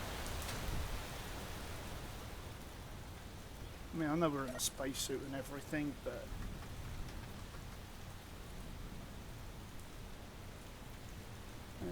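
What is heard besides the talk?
rain in the video game Space Engineers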